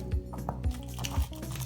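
A knife slicing through a head of cabbage for sauerkraut, three soft crunchy cuts at a steady rhythm, close and fairly quiet.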